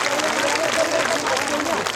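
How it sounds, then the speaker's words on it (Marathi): An audience at a public speech clapping together, a dense, continuous wash of applause from a large crowd with voices blended underneath. "एकदा वाघाच्या नावाने टाळ्या वाजवा"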